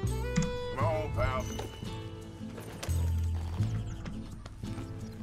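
Clip-clop of horse hooves in Red Dead Redemption 2, steady and fairly close, with a voice talking over it and some game-like sound effects.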